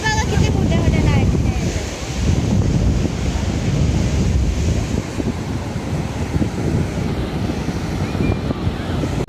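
Sea waves wash up on a beach as the tide comes in, a loud continuous surf roar with rolling surges, buffeted by wind noise on the microphone.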